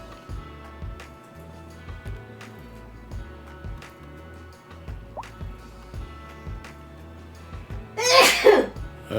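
A single loud sneeze near the end, up close and sudden, breaks over a quiet backdrop of soft, regular dripping and plinking game sounds.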